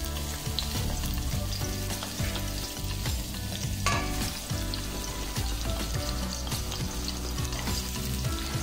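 Garlic sizzles and crackles steadily in hot oil in a pan while being sautéed for beef mechado, with a continuous loud frying hiss and scattered stirring scrapes throughout, and no voices.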